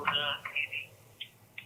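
A telephone call rings on the line in short tonal bursts, a longer warbling ring followed by two brief beeps, with faint voice-like sound underneath.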